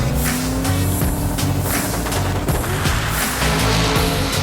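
A drag race car making a pass at Drag Week, its loud engine roaring steadily up close for the whole stretch with crackling, rapid-fire exhaust bursts and no talking.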